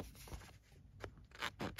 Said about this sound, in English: For this, I will need scissors.